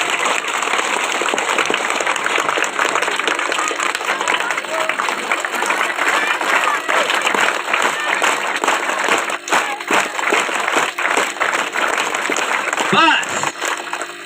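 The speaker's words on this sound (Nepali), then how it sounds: "ताली" A group of yoga students claps together in a dense, continuous patter of many hands, with voices talking over it.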